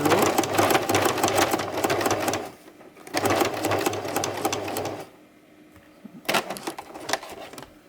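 A sewing machine stitches fabric strips for a choker in three close, loud bursts of fast rattling needle action, separated by short pauses.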